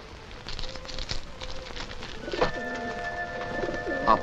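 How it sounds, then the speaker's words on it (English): A pigeon coos softly a few times, with low, rounded calls heard under faint ambient noise and rustling in a period drama setting. "This is the pigeon I gave to Monte Cristo."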